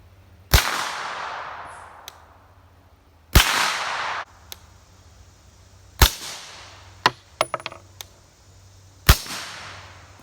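Suppressed hunting rifle firing 115 grain and then 147 grain rounds outdoors, four sharp loud cracks spaced a few seconds apart, each with a brief decaying tail and faint clicks of cycling between shots.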